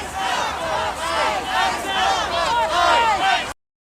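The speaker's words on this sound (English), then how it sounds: "I'm going to keep going and following the crowd here." A protest march crowd on South 4th Street in Minneapolis chants and shouts in rhythmic waves of many voices, loud and surrounding, for about three and a half seconds before cutting to silence.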